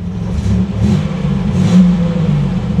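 A 1987 Buick Grand National's engine idles close by with a low, lumpy rumble, slightly uneven and pulsing, loud and steady throughout.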